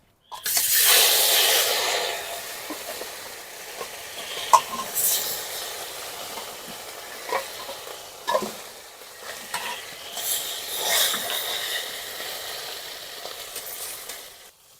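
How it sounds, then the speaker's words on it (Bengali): Steady oil sizzling and hissing as silver carp fish fry in a pan, with occasional knocks and scrapes of a utensil stirring. "বাকি যে মাছগুলো আছে একই ভাবে ভেজে নেবো"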